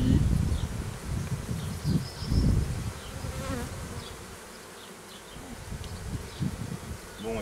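Honey bees buzz steadily at an open beehive during an apiary visit, a dense close drone with rustling and handling noises of frames, and no clear talk.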